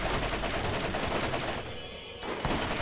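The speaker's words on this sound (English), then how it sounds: "I'm just shooting all the sniper bullets I've got at him." Sniper rifle fire in the shooter video game Borderlands during a co-op fight with a spitter skag, heard as a dense, loud run of gunshots filling most of the short stretch, with a brief dip near the end.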